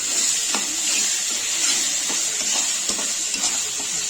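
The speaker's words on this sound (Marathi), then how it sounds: "हे थोडंसं फ्राय करून द्यायचं आहे" A ground paste of onion, coconut, ginger and garlic fries with cooked tomato in a pan for sukha chicken: a continuous bright sizzle with occasional soft stirring scrapes throughout.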